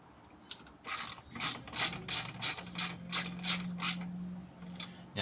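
A socket ratchet wrench tightens bolts on the 1999 Subaru Liberty's EJ251 engine while fitting an AC tensioner, giving about a dozen short, crisp clicking bursts in a steady rhythm, close up and alone.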